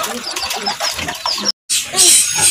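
Pigeons coo and flutter close by in a busy, steady stream while being fed, broken by a short silent gap midway.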